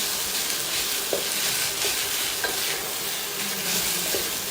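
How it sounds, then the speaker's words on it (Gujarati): Leftover cooked rice being stirred and mixed with spices in a pan, a soft steady scraping and shuffling with a few light spoon taps, no voices. "ભાતને પહેલાં આ રીતે સરસ રીતે મિક્સ કરી લેવાના છે, જેથી કરીને ભાતની અંદર બધો જ મસાલો સરસ સેટ થઈ જાય."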